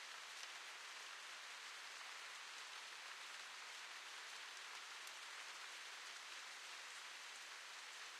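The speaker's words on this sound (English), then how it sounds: "the music just stops when you wake up in front of Grandma's house and it's just the rain" Steady rain pours in the video game The Path, a dense, even hiss of falling drops with no music, continuous and fairly quiet throughout.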